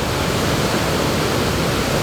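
Waterfall rushing in a steady, dense roar of falling water, loud and close, continuous without a break and with no voices over it.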